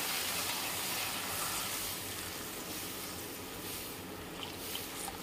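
Hot water hitting a pan of fried spice paste while cooking a thin rohu fish curry, a steady loud sizzle and bubbling hiss that persists throughout with no talking.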